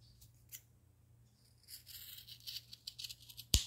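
Scissors cut satin ribbon to shape the ends of a small bow, giving faint, scattered snips and light rustling that build to a sharp, close click at the end.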